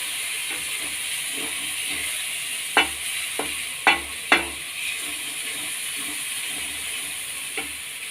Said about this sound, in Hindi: फिर हम चलाएंगे ताकि ये चिपके ना।